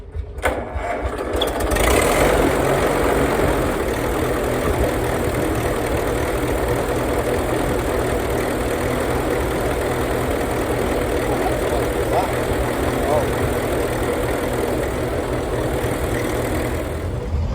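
A vintage machine engine at a vintage machinery rally fires up with choke and a bit of throttle, then idles steadily and loudly nearby, a rough continuous mechanical chugging throughout.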